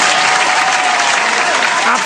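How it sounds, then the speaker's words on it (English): Loud, dense applause from a studio audience on a Jamaican business talk show, a sustained close roar of many clapping hands with a voice faintly underneath. "Let's give a round of applause to the big icon"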